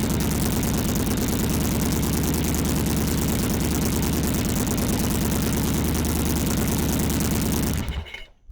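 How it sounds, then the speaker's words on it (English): Starter cranking a 1982 Yamaha Virago XV750 V-twin with compression releases fitted, a loud, steady, fast whirring churn that runs continuously up close before cutting off abruptly near the end. "we're going to crank it with them and see if it sounds any better."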